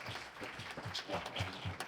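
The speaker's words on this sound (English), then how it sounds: "both of y'all, Mike Salazar and Retanya, y'all should give them a hand of applause." Audience applause at a gun violence prevention legislative panel, a steady patter of clapping filling the room at moderate level for a couple of seconds with no voices on top.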